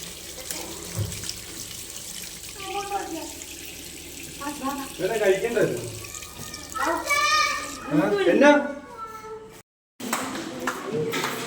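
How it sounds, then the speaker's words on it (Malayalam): Hands are washed under a running water tap at an outdoor stop on a family trip to Ponmudi, the steady flow of water mixed with children's voices and chatter nearby, ending in a brief silence. "അപ്പോൾ നമ്മൾ കൈ കഴുകാൻ പോവുകയാണ്"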